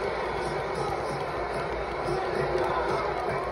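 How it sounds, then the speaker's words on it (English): Fight crowd at a Chuck Liddell vs Rampage Jackson MMA bout roars in a steady, loud, dense wall of cheering and shouting that holds without a break. "Ah, the crowd reacting."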